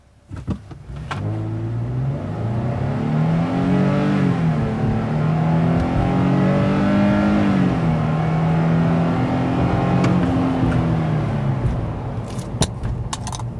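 A 2020 Nissan Frontier's 3.8-liter engine revs hard under acceleration with traction control off, a loud, close, steady climbing drone that rises in pitch, dips briefly as it shifts, then climbs again, with faint clicks near the end.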